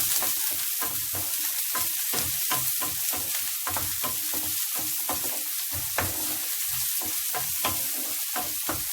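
Garlic and onion fry in olive oil while being stirred for egg fried rice, a continuous close hiss broken by regular scraping strokes of a utensil against the pan, with no voices.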